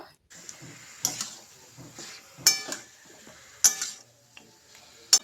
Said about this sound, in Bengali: তারপর একবার সব কিছু ভালো করে মিশিয়ে নেব